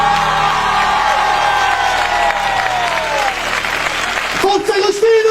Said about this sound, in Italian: un applauso ad Agostino Calatafimi